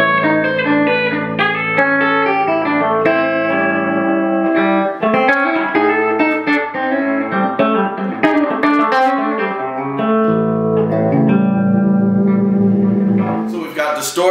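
Raines 7-string Tele-style electric guitar played through distortion, thick sustained chords and riffs ringing continuously, loud and close, with low seventh-string notes, ending in a brief burst of noise.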